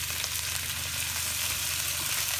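Garlic frying in a pan for pinakbet, giving a steady, close, crackling sizzle that holds unbroken throughout.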